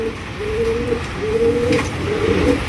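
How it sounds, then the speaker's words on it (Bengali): Pigeons coo repeatedly at a Bangladeshi pigeon market, their low rolling calls rising and falling in close overlapping phrases over steady background bustle, with no talk. "রয়েছে দুই কোয়ালিটি কবুতর,"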